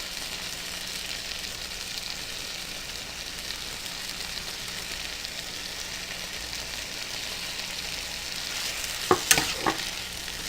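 A steady, fairly quiet sizzle of frying in a pan while cooking ackee and saltfish, with a herb mixture stirred in; a couple of sharp clinks of a utensil land near the end.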